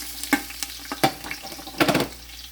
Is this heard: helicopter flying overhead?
no